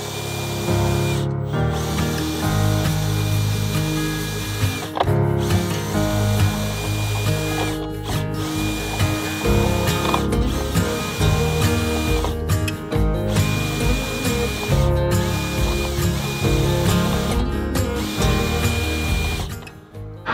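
A power drill or driver running a screw into a metal vent duct in a farmhouse, repeated whirring bursts with short pauses between them, loud and close, no talking.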